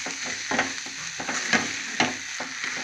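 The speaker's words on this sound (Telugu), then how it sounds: "మొత్తం అలాగా ఫ్రై చేసుకోవాలి." Greens fry in oil in a pan with a steady sizzle, while a spoon stirs them in several scraping strokes, close and moderately loud.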